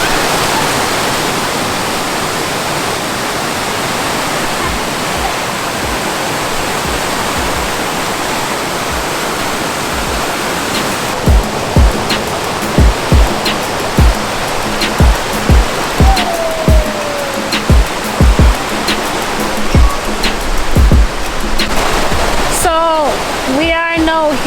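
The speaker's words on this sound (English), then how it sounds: "We're at Motherfed River, which is a part of White River, which is one of the longest rivers here in Jamaica" Rushing water of Motherfed River, part of White River in Jamaica, a loud broad steady roar filling the scene, with a voice talking over it and rhythmic tapping toward the end.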